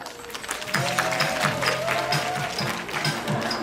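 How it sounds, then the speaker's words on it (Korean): Parents in the audience at a kindergarten recital clap together, a lively, sustained burst of applause joined by a few tonal sounds and murmurs from the room. "여러분들의 박수로 시작합니다"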